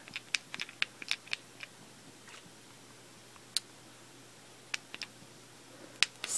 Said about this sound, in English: so they're quite clicky, because of course the buttons are clicky